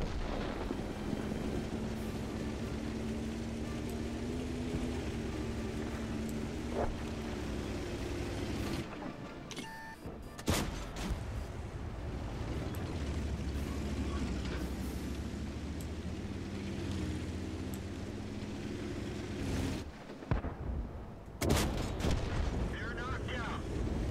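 In a tank video game, a light tank's cannon booms repeatedly over a constant engine rumble and battle noise, with loud blasts standing out around the middle and near the end.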